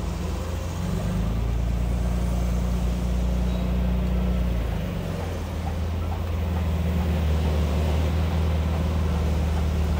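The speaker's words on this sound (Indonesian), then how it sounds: "suara mesinnya emang 6 silinder ya, 6 silinder segaris sama kayak mesin aslinya" Inside a 300 SL Gullwing replica with an inline six-cylinder engine, a steady low drone runs under wind and road noise as the car drives along a street, with a slight drop in pitch partway through.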